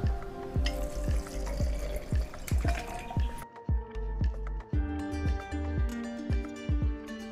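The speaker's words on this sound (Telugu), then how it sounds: "ఇప్పుడు నీళ్ళు పోసుకుందామండి." Water pours into a glass jar holding soaked seeds, mint and six ice cubes for kulukki sherbet, splashing and clinking in close, uneven bursts as ice knocks against the glass.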